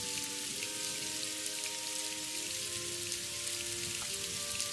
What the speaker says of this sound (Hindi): बारिश बंद होने के बजाय और तेज हुए जा रही थी